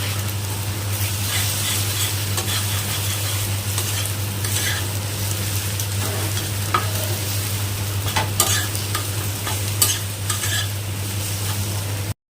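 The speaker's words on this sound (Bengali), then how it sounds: "তরকারি ভাজা হতে হতে আমি প্যানে ডিমের ঝুড়িটা বানিয়ে নিই" Egg jhuri frying in a pan makes a continuous close sizzle, with scattered scraping and stirring clicks from the utensil and a low steady hum underneath; nobody speaks.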